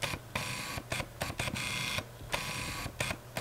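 A Canon RF 35mm f1.8 STM lens drives its autofocus motor in quick bursts, a series of short buzzing whirs separated by brief pauses, close and quiet.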